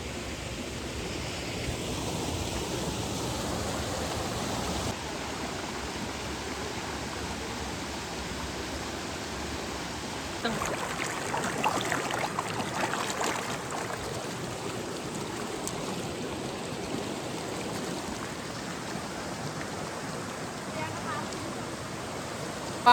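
A forest stream runs in a dense jungle, a steady broadband rush of flowing water, briefly louder in the middle, with some talk over it.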